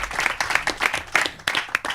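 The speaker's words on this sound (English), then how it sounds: "Can everyone give them a big round of applause?" A student union leadership debate audience claps for the welfare candidates, a short burst of fairly close, distinct handclaps that is lively and uneven and stays free of speech.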